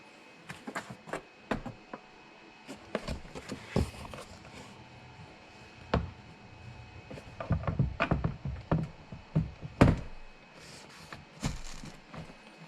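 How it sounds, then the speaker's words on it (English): Plastic tabs of a rear door trim panel on a 2003–2008 Honda Pilot snap into place as a series of sharp, close clicks and thumps, scattered irregularly between quieter handling noises. "push it in until it clicks."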